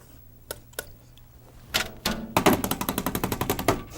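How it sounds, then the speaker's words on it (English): A paint brush is washed in liquid, starting with a few separate taps, then a fast, steady train of loud rhythmic knocks as it is beaten against a surface, close and with no voice. "let's wash the old brush off again"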